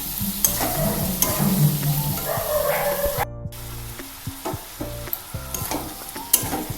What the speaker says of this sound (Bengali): এবার পটলের সাথে মশলাগুলো কষাতে হবে।